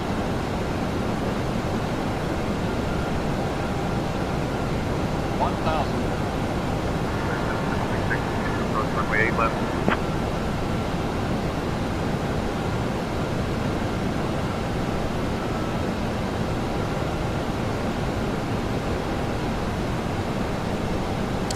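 Steady, unbroken airliner roar from a PMDG 737-800 on approach to landing in Microsoft Flight Simulator 2024, a dense wash of engine and airflow noise holding at an even level throughout, with a few faint tonal chirps early on.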